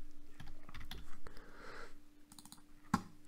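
Quiet clicks of typing on a computer keyboard for a virtual on-screen keyboard demonstration, a scattered series of light taps with a faint steady hum beneath and one sharper click near the end.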